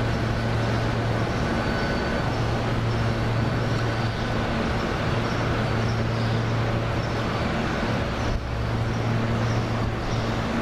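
An Amtrak passenger train made up of three Viewliner cars and a Heritage Diner rolls past with a loud, continuous rushing rumble and steady low hum that holds for the whole stretch.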